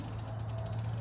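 A bicycle pedal is screwed onto the crank of a 24-inch Floval Flyer during assembly, giving a close, quick run of fine ratchet clicks over a steady low hum.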